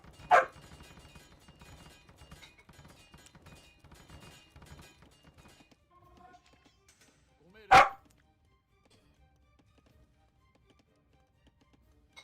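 A dog barks twice in a room during an Age of Empires match commentary, one sharp bark at the start over a soft game backdrop and another loud, close bark after a quiet pause.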